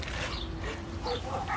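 Dogs meeting another dog give a few soft whimpers and yips, close by, over a steady noisy background with no talking.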